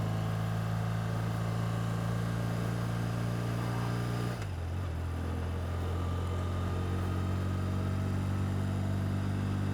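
A 1982 BMW R100 RT airhead boxer motorcycle running on a test ride, a steady loud engine drone that drops abruptly in pitch partway through as if shifting or easing off, then continues evenly with wind rush.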